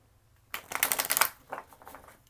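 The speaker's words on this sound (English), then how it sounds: "I'm going to get one more shuffle after this, cut the deck" A deck of cards is riffle-shuffled in one quick burst of crisp, fluttering clicks, followed by softer shuffling as the cards settle, close and clear with no talking.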